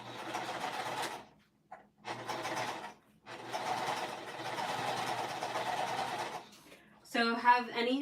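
A sewing machine stitches the sides of a fabric pouch in several runs of fast, steady mechanical whirring separated by short pauses, close by, with a brief burst of speech at the end.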